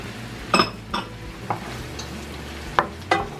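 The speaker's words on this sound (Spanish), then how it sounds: "El apio, para que esto se vaya sofriendo bien." Red and green chile and celery sautéing in a pan, with a steady soft sizzle and several distinct clinks of a utensil stirring against the pan at irregular intervals.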